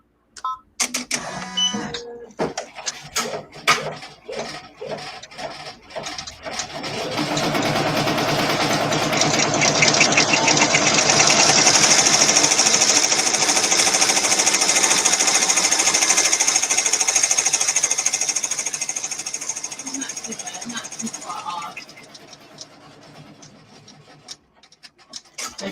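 Embroidery machine stitching an in-the-hoop project, starting with a few clunks, then running a steady loud mechanical whir for about fifteen seconds before winding down.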